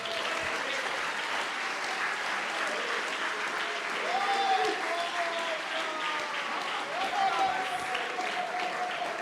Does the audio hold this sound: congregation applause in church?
yes